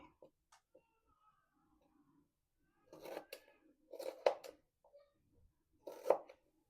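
A knife slices a cooked chicken piece in two from the center for a diet chicken salad, giving three short, crisp cutting crunches spaced a second or two apart against an otherwise quiet background.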